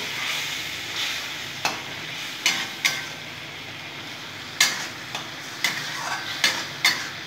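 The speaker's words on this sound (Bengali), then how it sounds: "জলটা দিয়ে দিলাম, ভালো করে কষে নেব" Spices simmered with a splash of water in a pan are stirred and scraped, a steady soft sizzle broken by a dozen sharp spoon knocks against the metal, close and clear with no talking.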